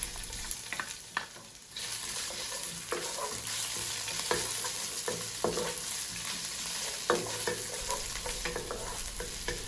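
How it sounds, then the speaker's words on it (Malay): Garlic and finely minced shrimp fry in a pan under a steady close sizzle, with repeated spatula scrapes and clinks as the mixture is stirred, no talking. "Kacau bawang putih ni sehingga naik bau"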